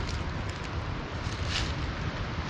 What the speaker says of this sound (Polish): Nawet no więcej wiatr się rusza